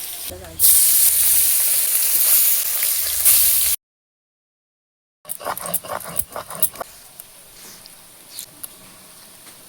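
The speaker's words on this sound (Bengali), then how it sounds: "মাছ দিয়ে ভালো করে ভাজো" Loud hissing sizzle of catla fish frying in hot oil, then after a short gap, crackling spatters and clinks of a utensil against the pan.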